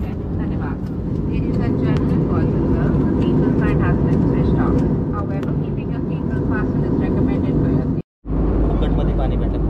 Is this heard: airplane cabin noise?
yes